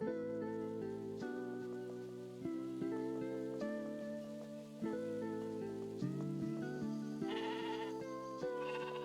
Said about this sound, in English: There's the sheep.